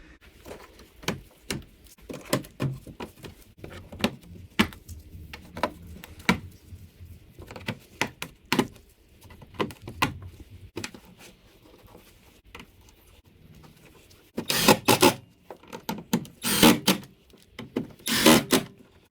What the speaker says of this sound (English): what I'm gonna do now is just place back all the screws and clips that I removed